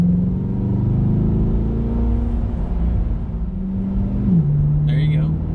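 A 2020 Corvette C8 Z51 engine in sport mode drones with a steady low rumble from inside the cabin, its pitch holding and then dropping near the end, while people talk over it.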